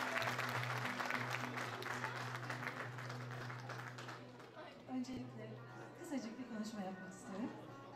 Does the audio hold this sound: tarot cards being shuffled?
no